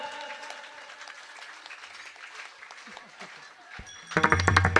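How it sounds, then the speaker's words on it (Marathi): An audience at a Diwali Bhaubeej kirtan breaks into loud, dense clapping near the end, after a stretch of quieter singing and instrumental music. "अहो टाळ्या वाजव, मला नाही, टाळ्या टाळ्या एक साथ"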